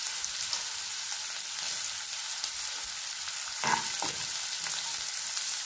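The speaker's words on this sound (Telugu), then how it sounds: "ఆనియన్స్ గోల్డెన్ బ్రౌన్ కలర్ వచ్చే వరకు వేయింపాలి." Onions fry in oil for an Andhra-style prawn fry, a continuous close sizzle with occasional scraping stirs, no voices.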